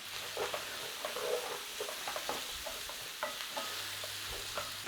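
Onions, garlic, carrots and celery stir-fried in a pan for a creamy chicken corn chowder make a quiet, even sizzle with repeated stirring scrapes and light knocks, close up and free of talk.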